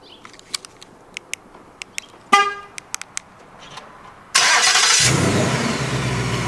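A 2020 Ford Mustang GT Premium Convertible with its V8 fires up: scattered clicks and a short horn chirp from the remote start, then a sudden loud engine catch that settles into a steady, rumbling idle close by.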